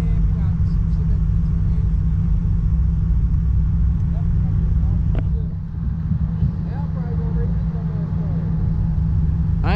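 Street racing cars rumble loudly with a deep, continuous low engine roar and a brief dip midway, while people talk over the noise.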